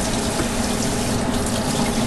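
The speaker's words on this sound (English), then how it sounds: "if you want a little more of that breading to stick, run it under some water." Tap water runs steadily under a faucet over breaded fish during a Friday night fish fry, a continuous close hiss of flowing water with no voices.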